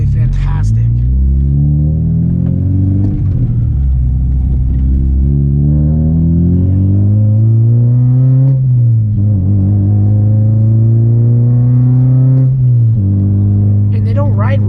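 An 8th gen Honda Civic Si on BC coilovers cruising, a low engine rumble rising and falling through gear changes, heard from inside the car.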